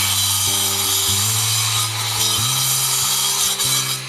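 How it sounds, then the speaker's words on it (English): A large grinder with a diamond bit cuts into hard ground or concrete for a trench, a loud continuous whining drone with shifting pitch as the load changes, close and alone. "This large grinder is a really powerful tool, especially with the diamond bit."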